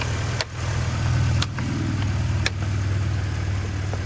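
A car engine idles steadily with a low rumble, a faint airy hiss of intake sucking air running over it and a few sharp clicks.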